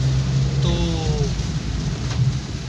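Monsoon rain keeps up a steady, loud hiss throughout, with a low rumble underneath and a brief whining tone partway through.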